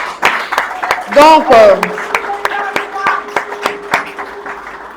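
A parliamentary assembly applauds an honorable member who stands up at an official launch event, with steady claps running beneath a man's loud nearby speech.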